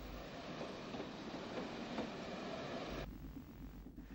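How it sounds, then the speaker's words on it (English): CIE-built AEC diesel railcars in green livery pass Eastwall Junction near a railcar depot, giving a loud, steady rumble and rolling wheel noise that cuts off abruptly near the end. "A set of CIE-built AEC railcars in green CIE livery head past Eastwall Junction and the GNR's railcar depot at Fairview."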